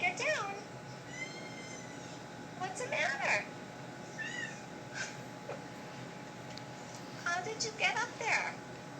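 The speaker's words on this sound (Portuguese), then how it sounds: "Isso daí só é um gato." A cat meows several times, its high, wavering cries rising and falling over about nine seconds, with people talking and laughing throughout.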